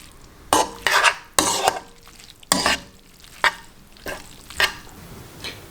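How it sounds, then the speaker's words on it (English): Spaghetti being stirred into an octopus sauce in a pan, a series of short scraping, clattering strokes of utensil against pan with soft sizzling between them, close and fairly loud, no talking. "I will add the spaghetti to the sauce. And just stir it a little bit so that all the sauce gets into contact with the spaghetti."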